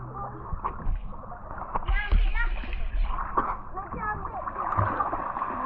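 Water splashes and sloshes in a hot spring pool at Batang Kali as people move and bathe, with irregular close splashes and gurgles mixed under lively talk from adults and children.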